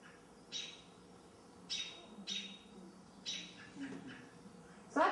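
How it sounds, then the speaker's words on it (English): A robin gives its alarm calls outdoors, a series of short sharp notes repeated at irregular intervals, moderately faint, with a louder call at the end. "Robins also have 2 grades of alarm."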